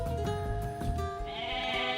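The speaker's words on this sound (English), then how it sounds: "The goat has been seized" A goat in Age of Mythology bleats in a short wavering tonal cry, steady and fairly close, over faint game ambience with no talk.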